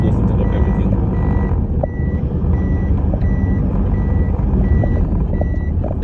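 A dump truck reverses along a road cleared after a hurricane, its backup beeper sounding in regular loud pulses over a rumbling engine.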